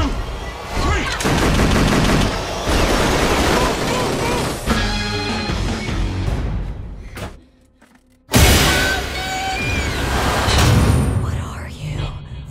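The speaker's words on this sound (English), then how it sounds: "We're shooting our way out of here, bro." Film-scene shootout with rapid bursts of loud gunfire and machine-gun fire, dense cracks filling the first seven seconds, a brief quiet drop, then another intense volley of shots with crashing impacts; voices are heard mixed in.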